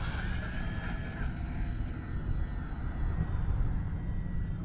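An FMS PC-21 Pilatus RC plane takes off with its electric motor whining at full throttle, a steady airy drone with a thin high tone drifting in pitch over outdoor wind noise.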